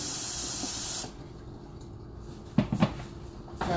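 Cold water gushes hard from a kitchen tap into a bowl for about a second, then cuts off. A few light clinks and knocks follow during preparation of hand-cut fries.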